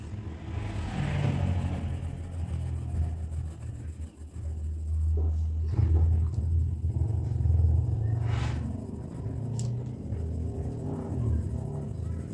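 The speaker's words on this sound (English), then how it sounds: "You know it's live and in real time because you can hear the busy street outside my studio" Low rumbling street traffic outside, with cars passing and engines swelling and fading at a moderate distance.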